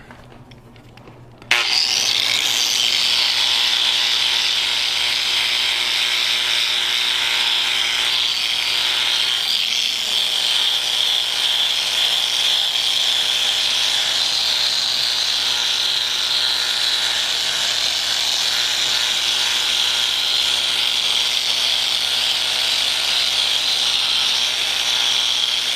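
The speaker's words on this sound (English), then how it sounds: "let's flip this around. Let's wire wheel the other side." A wire wheel, most likely on a power tool, grinds steadily against the side of an iron anvil, a loud continuous abrasive whir that starts abruptly and runs unbroken with no talking.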